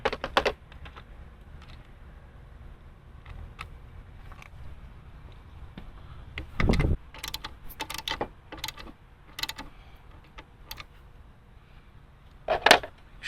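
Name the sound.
8mm socket ratchet tightening bolt on Jeep Grand Cherokee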